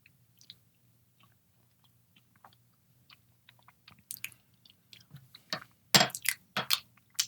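Close mouth sounds of someone tasting Nutista nut butter, faint at first, then wet chewing and crunchy bites that grow louder toward the end.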